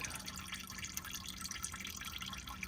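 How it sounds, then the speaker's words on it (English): Engine oil drips from the oil filter housing of a 2016 Lexus RX350 with a 2GR-FKS engine during an oil change, giving a steady patter of close, fine liquid drops with no talking. "just let it drip and clean it"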